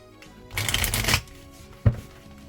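A deck of cards is riffle-shuffled once in a quick fluttering burst, close by, followed by a single soft tap as the cards settle.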